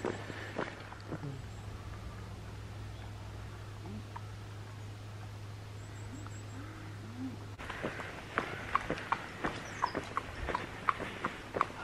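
A horse walks along a road in Ireland, its hooves giving sharp, evenly spaced clip-clops that start after a quiet stretch and grow louder and nearer toward the end.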